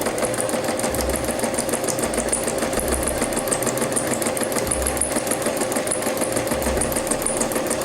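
Sewing machine stitching fabric, a steady mechanical whir with a faint periodic low thump, running continuously and fairly loud throughout with no talking.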